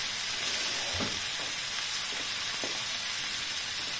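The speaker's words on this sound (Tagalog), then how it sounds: "Tapos, lagyan natin ng konting water." A lamb curry sizzles and fries in a pan as a little water goes in, giving a steady hissing bubble with a few soft stirring knocks, close and with no talking.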